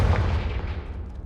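A Confringo blasting spell in Hogwarts Legacy, a single heavy booming impact with a deep low rumble that fades quickly, loud and close.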